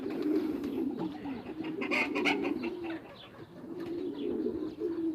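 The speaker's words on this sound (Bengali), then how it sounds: "আর এই যে বাইরের কবুতর" Pigeons coo in a low, steady murmur that rises and falls continuously, with faint rustling and a few brighter chirps mixed in.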